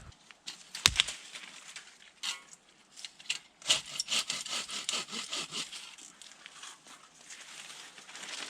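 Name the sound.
sawing down dead saplings for tarp poles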